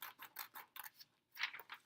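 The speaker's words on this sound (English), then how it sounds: "you're going to need some scissors, okay, and you're going to want to go ahead and cut out along the lines here" Scissors snip through paper along printed lines, a close run of crisp, evenly spaced cuts with a short pause before another quick burst of snipping.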